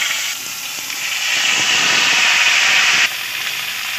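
Vegetables hitting hot mustard oil in a wok with panch phoron, giving a loud, steady steam-like hiss that swells midway and drops abruptly near the end.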